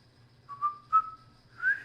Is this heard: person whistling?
yes